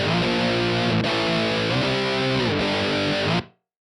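Heavily distorted electric guitar chords ring out with a short slapback echo, sustaining for a few seconds before cutting off abruptly.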